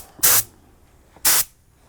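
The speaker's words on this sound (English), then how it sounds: "So what we want to do is we want to do a test spray." Two short, loud hissing bursts from a Harbor Freight Black Widow 2.0 paint spray gun firing test sprays, each lasting about a fifth of a second and separated by a second of quiet, with no talking.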